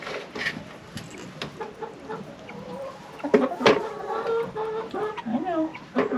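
Chickens on a Florida farm clucking near and loud in irregular bursts, with a few sharper squawks and faint background rustling.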